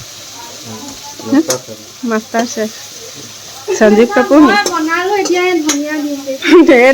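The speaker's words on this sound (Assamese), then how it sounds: "ইফালে বেঙেনা আৰু পটল ফ্ৰাই।" Brinjal and pointed gourd frying in a pan give a soft, steady sizzle beneath a person talking through most of the stretch, with the talk growing busier toward the end.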